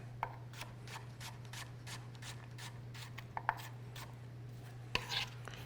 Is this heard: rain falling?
no